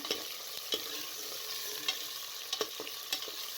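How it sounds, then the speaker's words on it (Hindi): Steady, fairly quiet sizzle of mutton frying in a pan for bhindi gosht, broken by a few soft clicks and scrapes of stirring. "गोश्त डाल के आपने अच्छी तरीके से इसे फ्राई करना है।"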